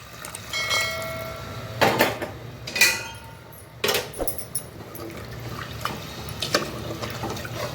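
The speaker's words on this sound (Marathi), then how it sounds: "आता याच्यामध्ये गरम पाणी टाकते मी अंदाजानेच टाकते" Hot water pours and splashes into a metal pot of country chicken curry, with a few louder clanks and gushes standing out over a steady running-water wash.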